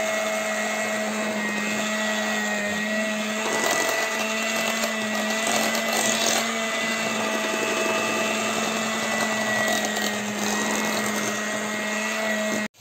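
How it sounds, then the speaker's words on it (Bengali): An electric blender runs steadily, mixing milk and potato into a sweet potato pudding, with a loud, even motor whine holding for about twelve seconds before cutting off abruptly at the end. "এখন দেওয়া হচ্ছে দুধ, ব্লেন্ডার দিয়ে মিশিয়ে নিলে এটা হয়ে যাবে আলুর পায়েস।"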